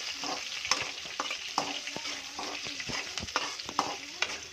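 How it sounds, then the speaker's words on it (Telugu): Green chillies frying in hot oil in a pan while preparing semiya upma, a steady sizzle broken by repeated scraping and stirring knocks of a spoon against the pan, close and alone without talk. "పచ్చిమిర్చి మంచిగా నూనెలో ఫ్రై కావాలి."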